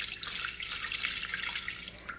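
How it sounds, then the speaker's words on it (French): Water pours steadily from a tap into a bowl for bread dough, measured out to 260 g, making a continuous close splashing trickle with no talk. "je vais mettre 260 g d'eau"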